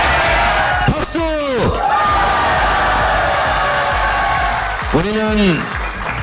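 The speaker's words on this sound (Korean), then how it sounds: "박수!" Loud applause and cheering from a studio audience at a Korean political talk show, with whoops and shouted voices rising over the clapping and a host speaking through it.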